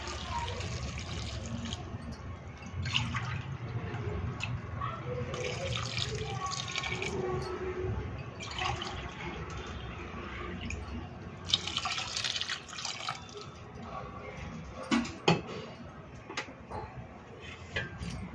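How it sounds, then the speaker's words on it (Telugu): Water pours steadily into a pot of rice for several seconds, with soft splashing and a few small clinks near the end. "2 గ్లాసుల బియ్యానికి 3 గ్లాసుల వాటర్ యాడ్ చేస్తున్నాను"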